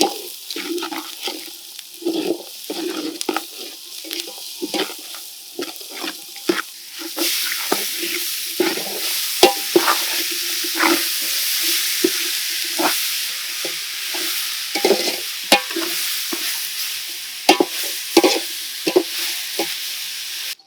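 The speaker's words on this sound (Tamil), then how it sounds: "அடுத்து வெங்காயம் தக்காளி வதக்கிக்கலாம்." Onion and tomato sautéed for a village-style masala fish curry, with a constant frying hiss that grows louder partway through and many short scraping stirs at an irregular pace, close up and without talk.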